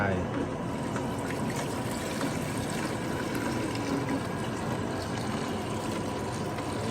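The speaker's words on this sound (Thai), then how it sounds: "เทน้ำลงไป" Water is poured steadily into a drink dispenser jar, a continuous close splashing and trickling rush that holds evenly throughout.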